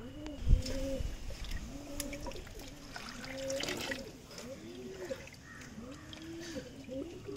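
Young pigeons in a pigeon loft coo in repeated soft, low rising-and-falling calls while being handled and dipped in water, with a faint trickle and a brief thump near the start.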